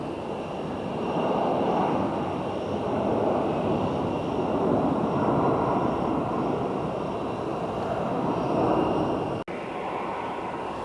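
A jet airliner touching down on runway 26 at Phoenix airport, inbound from Calgary, gives a steady, loud broadband roar of engine and rushing air that holds evenly throughout, with one sharp click near the end.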